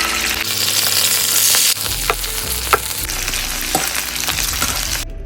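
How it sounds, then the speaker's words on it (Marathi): Okra pieces frying in hot oil in a home kitchen, a steady close broadband sizzle with a brief louder surge early on and occasional faint clinks from stirring, no talking. "तेल तापल्यावर भेंडी घालून घेत आहे."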